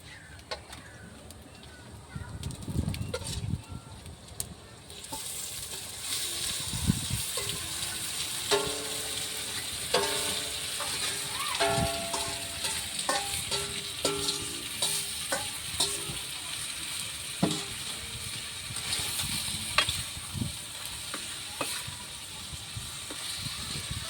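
Eel pieces for adobo dropped into a hot pan with ginger, bursting into steady loud sizzling and frying crackle after a quieter start, with stirring clatter and occasional watery sounds throughout.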